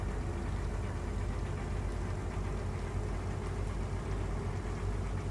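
Diesel engine running steadily, a low continuous drone with constant rumble and no clear change in pitch or speed, heard close and alone.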